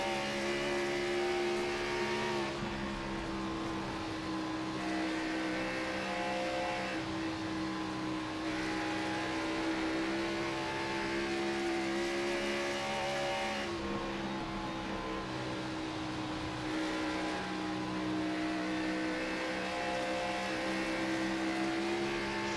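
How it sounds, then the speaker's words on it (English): A race car engine heard from a roof-mounted camera in the iRacing sim, droning steadily with sustained harmonic whine and gentle shifts in pitch as it laps the track, loud and continuous with no talk. "Just watch him for a quick second, trying to get around the track and listen into his engine."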